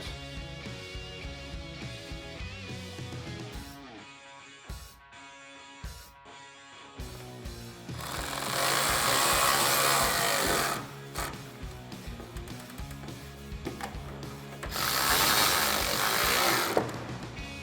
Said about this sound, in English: go ahead and push in the taillight and re-secure those two T15 screws.